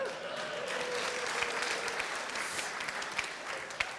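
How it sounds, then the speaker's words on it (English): Conference audience at PhoneGap Day EU 2013 breaks into sustained applause, a dense even wash of clapping with a few sharper claps popping out, and faint voices murmuring underneath. "I think that's the most easy applause I got this year"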